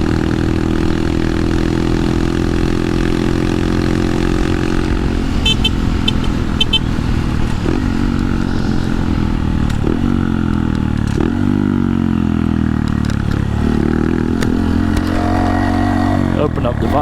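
A Honda Monkey motorcycle with a Yoshimura low-volume exhaust insert, its engine running loud and close as the throttle opens and pitch rises and falls in repeated pulls, with a voice talking over it.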